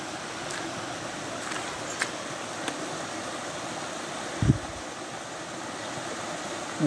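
A stream swollen by heavy overnight rain rushes in a steady, soft broadband wash, fairly distant and low in level, with a few faint knocks and one brief thump partway through.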